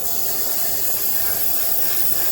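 Airbrush spraying paint inside a Parkside model van kit, driven by a compressor, a steady close hiss running unbroken throughout.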